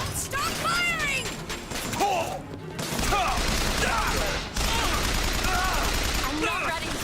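Gunfire and combat chaos in BioShock Infinite, with rapid overlapping shots and impacts under a dense, loud game soundscape, mixed with in-game voices and shouting.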